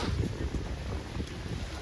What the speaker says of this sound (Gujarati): અત્યારનું વાવાઝોડું એકદમ ખતરનાક, વાયરો ને એવું બધું છે, ફૂલ વાવાઝોડું